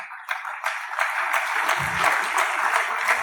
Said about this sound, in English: Please give him a round of applause as he comes up as the moderator of this plenary session.